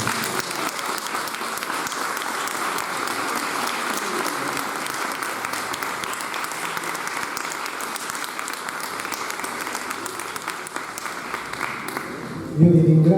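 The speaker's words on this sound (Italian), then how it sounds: "invito tutte e tutti a fare un applauso" Steady applause from an audience at an award ceremony for autobiographical works, many people clapping together in an even, continuous roar before a brief louder burst at the close.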